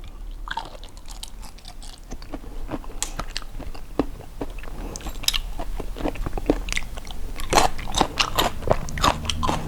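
Shrimp soaked in fish sauce being bitten and chewed close up, with repeated wet crunches and crackly bites in an irregular eating rhythm, no talking.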